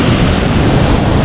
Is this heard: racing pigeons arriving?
no